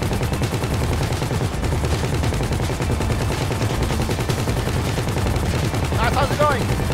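Gunfire in the video game Grand Theft Auto 5 Online, a steady dense rattle of rapid shots running through the whole stretch, with a few brief higher tones near the end.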